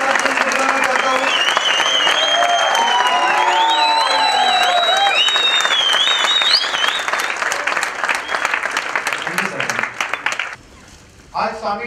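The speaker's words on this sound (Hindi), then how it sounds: "एक बार जोरदार तालियों के साथ में बुलाना चाहता हूं।" Loud, sustained audience applause with cheering and whoops welcoming a speaker to the stage at a seminar, dense clapping throughout before cutting off abruptly near the end.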